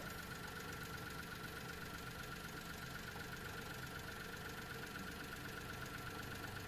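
Mitsubishi Minicab engine with low power and a bad fuel pump, a steady faint mechanical drone with a fine regular ticking texture, heard close and alone.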